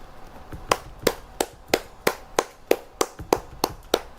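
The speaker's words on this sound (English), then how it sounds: "I hope my claps are audible when I clap." Eleven sharp hand claps at a steady, even pace, each crisp and close, with quiet room tone between them.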